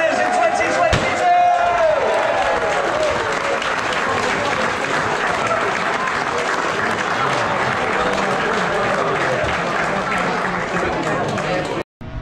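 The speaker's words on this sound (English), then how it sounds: "Can we please get a big round of applause for our Lords of Lydden, the sidecar burn up winners in 2022!" A large outdoor crowd applauds the Lords of Lydden, sidecar burn up winners at the Lydden 2022 event, steady loud clapping under an announcer's voice, ending abruptly.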